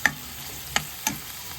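Onion frying with cumin and mustard seeds in a pan for dal, three quick sharp crackles or spoon taps over a faint sizzle.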